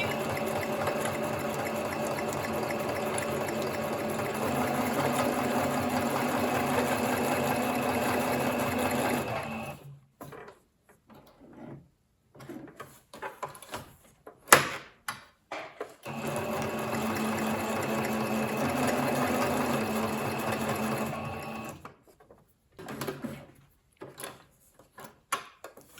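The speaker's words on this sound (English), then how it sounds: "I'm gonna put it under my machine and start stitching." A sewing machine stitches through a paper craft project in two long, steady runs of rapid mechanical whirring, separated by a quieter stretch of small clicks and handling noises.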